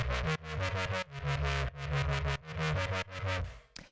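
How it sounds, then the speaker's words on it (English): A punchy synthesized bass plays a repeating rhythmic riff, loud and buzzy with stepping low notes, ending abruptly. "So the first thing that I have going on here is this bass."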